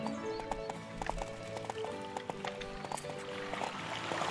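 Galloping horse hooves in the video game Horse Life, a steady rhythmic clip-clop of repeated hoofbeats moderately close. A faint flowing background sound runs underneath, and nobody talks.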